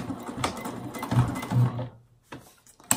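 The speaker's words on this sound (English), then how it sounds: "This machine isn't really the strongest." A sewing machine stitches an ID badge holder in short bursts of rapid, close mechanical needle chatter, stopping and starting with brief pauses and small clicks between runs.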